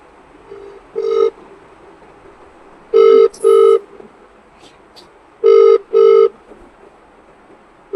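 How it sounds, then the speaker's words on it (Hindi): A phone ringback tone sounds in paired bursts, three double rings spaced evenly apart over a quiet line hiss. "कॉल रिंग हुई है, फोन नहीं उठाया"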